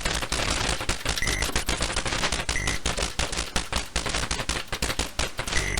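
Rapid-fire shooting from an arcade video game, a dense stream of sharp electronic gun bursts running continuously and loudly, punctuated by brief high synthetic tones recurring at regular intervals, with no voices.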